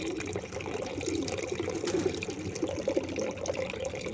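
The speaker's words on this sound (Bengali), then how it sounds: "এবার খাওয়ার জলের সঙ্গে আমি মিশিয়ে দিচ্ছি" Prepared water poured into drinking water for pigeons, a continuous close gushing and splashing stream with no pauses.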